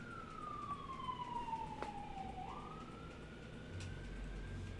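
A police car siren wails past, its tone sliding steadily downward and then rising again, at moderate distance over a low steady background hum.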